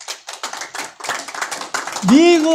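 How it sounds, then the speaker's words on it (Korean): A church congregation at a Sunday afternoon service claps in quick, uneven bursts for about two seconds, then a voice takes over at the end. "박수 쳐!"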